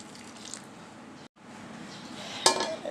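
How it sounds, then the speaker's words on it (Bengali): A lid set onto a pot of jackfruit seeds left soaking in a home kitchen gives a short metallic clink near the end, after a brief pause, over faint room noise with no talking. "ডাকনা দিয়ে আমি ডেকে রেখে দিচ্ছি"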